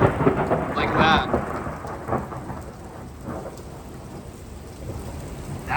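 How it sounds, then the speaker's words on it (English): A spring severe thunderstorm unleashes a loud, rumbling thunderclap over heavy rain pouring onto surfaces, the thunder peaking early and rolling off while the downpour hisses steadily nearby. "First thunderstorm, holy crap, video of 2020."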